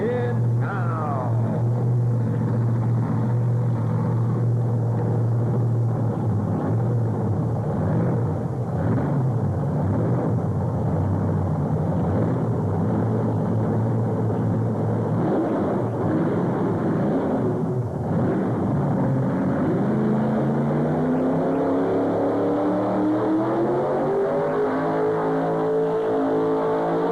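A 1977 Chevrolet truck pulling at a 1987 Brandon tractor pull, its engine roaring loud and steady for about fifteen seconds, then climbing in pitch as it revs harder toward the end of the run.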